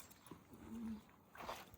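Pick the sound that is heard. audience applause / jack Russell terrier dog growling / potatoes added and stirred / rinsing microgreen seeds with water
jack Russell terrier dog growling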